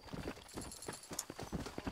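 Quiet, rhythmic clip-clop of horse hooves trots along steadily in the video game Red Dead Redemption, with a faint high whinny-like tone briefly rising midway.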